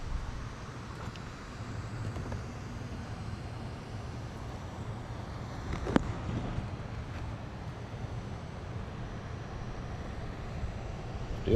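Wind blows steadily through a vegetable garden of spinach and lettuce rows, a continuous low rushing with mic buffeting, a brief gust near the middle, with no voices.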